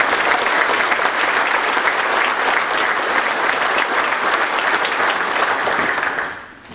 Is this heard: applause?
yes